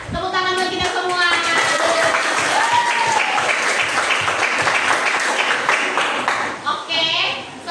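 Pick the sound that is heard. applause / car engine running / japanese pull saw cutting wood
applause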